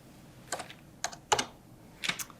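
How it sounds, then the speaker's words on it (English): An account number typed on a computer keyboard: four short, close clusters of quick key clicks separated by brief pauses, fairly quiet and with no talking. "so if you want to type in this account number here"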